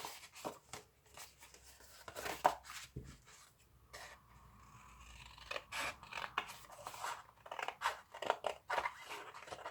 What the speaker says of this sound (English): I'm going to cut that into two and show you how it looks on black backing paper.